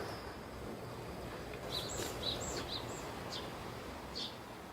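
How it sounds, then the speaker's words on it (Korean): Outdoors, a crow, a magpie and a great tit call in a few short, faint, scattered chirps over a soft steady background hiss, distant and sparse. "지금은 까마귀 소리가 들리고 아까 전에는 까치 소리랑 박새"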